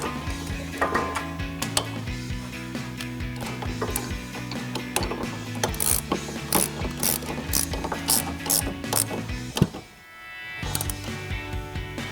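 A 19 mm wrench tightens a sway bar link nut on a 2015-2025 Ford Mustang, with rapid, close metallic ratcheting clicks in uneven runs and a short pause near the end.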